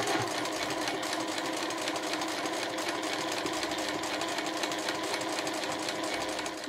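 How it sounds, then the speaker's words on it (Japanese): Sewing machine backstitching and then running a seam on cotton fabric for a small drawstring pouch, a steady, fast, continuous mechanical whir close to the listener with no talking. "押さえを下げて返し縫いからスタートします"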